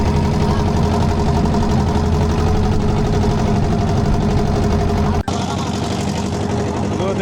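A boat engine, likely a river trawler or launch, drones steadily at close range on a wide river in rural Barisal, Bangladesh, a continuous loud low rumble with one momentary dropout near the end.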